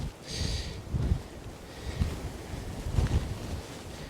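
Cold wind gusts across Montezuma Pass at the start of the Arizona Trail, buffeting the microphone in steady low rumbles with a few stronger bursts, no voices heard.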